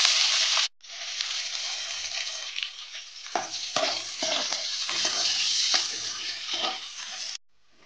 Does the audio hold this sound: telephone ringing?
no